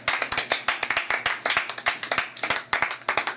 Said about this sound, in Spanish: Vamos a recibir con un fuerte aplauso, por favor, a María.